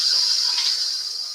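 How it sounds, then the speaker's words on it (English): A short, steady sizzle of garlic frying in a pan, close and fairly loud, with a bright hiss throughout. "can you hear that sizzling?"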